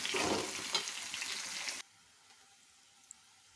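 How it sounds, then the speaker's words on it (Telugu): A loud burst of sizzling as coriander hits hot oil, abruptly cutting off, leaving quiet room tone with a faint click. "ఇదిగండి ఆయిల్లోకి కొత్తిమీర"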